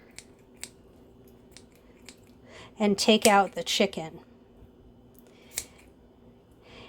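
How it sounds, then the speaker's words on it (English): Kitchen scissors snipping open a plastic bag of chicken, a few short sharp cuts spaced apart, with a person speaking briefly in the middle. "With my kitchen scissors"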